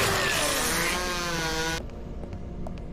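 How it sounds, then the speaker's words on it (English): A chainsaw in the horror video game Rise of Nightmares revs loudly with a rising, buzzing engine whine, then cuts off abruptly partway through, leaving faint background sound. "Chainsaw is at least not a pain to use."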